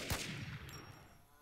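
A couple of gunshots in The NewZ survival shooter, a sharp low crack followed by a lingering ringing tail, moderately loud with no talking over it.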